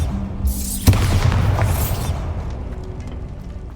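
Bombarda spell explosion in Hogwarts Legacy, a sharp loud blast with a bright crackling burst that decays into a rumbling low tail over a few seconds, alone without talk.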